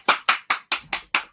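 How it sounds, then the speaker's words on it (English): Six crisp, evenly spaced claps in a steady rhythm, close and fairly loud, with no talking. "Give her a round of applause."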